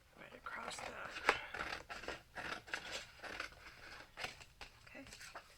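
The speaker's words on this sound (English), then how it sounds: "Alright, so now I'm just going to take my scissors" Scissors cut paper for an Oriental-style shadow box in a series of close, crisp snips and crunching slices at an uneven rhythm, while a person talks over the cutting.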